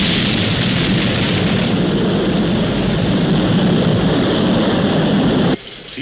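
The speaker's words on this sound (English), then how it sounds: "We have liftoff." A rocket lifts off in a SHADO launch scene with a loud, continuous broadband roar that holds steady, then drops off sharply near the end.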